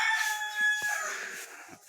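A rooster crows once, a loud nearby cock-a-doodle-doo that trails off, with a soft thump partway through.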